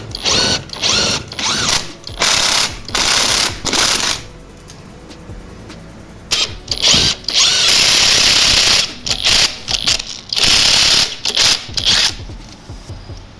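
Ratchet undoing the shock absorber bolts on a Chrysler Grand Voyager, loud close bursts of rapid clicking strokes separated by short pauses.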